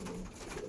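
Andhra breeder pigeons coo softly in a brief, close burst, a low steady murmur with no voices.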